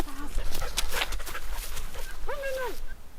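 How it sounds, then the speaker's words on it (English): A border collie puppy gives a few short, high, wavering whimpers, one near the start and a longer rising-and-falling whine near the end, set against steady outdoor background noise. "A puppy border collie"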